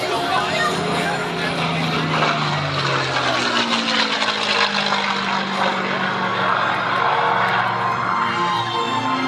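A P-51D Mustang fighter with a licence-built two-stage Rolls-Royce Merlin engine flies past at an airshow, its loud, steady propeller drone filling the air with a slowly shifting pitch.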